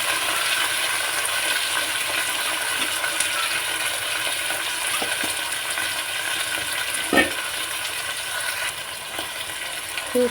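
Potatoes and pigeon peas fry in oil with a tempering of mustard seeds, cumin and curry leaves for a pigeon pea sambar, giving a steady, even sizzle with occasional stirring clinks.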